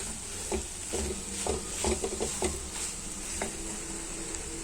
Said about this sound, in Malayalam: മസാല ഒക്കെ പിടിക്കുന്നത് വരെ നന്നായിട്ടൊന്ന് ഇളക്കിയെടുക്കാം.